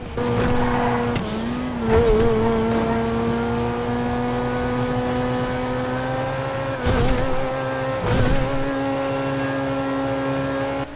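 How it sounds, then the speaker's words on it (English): The Grotti Turismo supercar engine in the video game GTA revs steadily and loud, holding a deep drone with a few sharp throttle blips and brief shifts in pitch, and no voices over it. "Let's have a listen to the Grotti."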